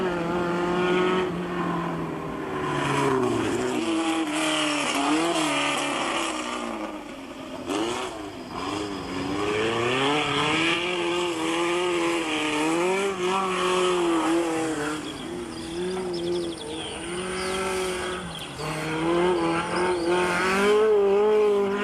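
A 1970s Alpine A110 Berlinette rally car races past with its engine revving hard, rising and falling through gear changes over about twenty seconds, loud and close with brief dips between surges.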